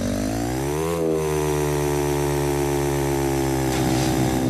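A dirt bike engine in a Brazilian motorcycle game revs steadily during a wheelie, a loud continuous buzzing drone that rises in pitch near the one-second mark and holds high.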